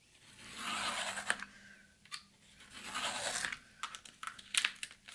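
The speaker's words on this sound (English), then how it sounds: "We're going to go ahead and cut off the edges." An X-Acto blade cuts the edges off a hanging file folder, producing soft scraping and crunching strokes of paper cardstock with a few sharper snaps, close and quiet with no talking.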